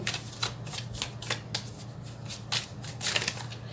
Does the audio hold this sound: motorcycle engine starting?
no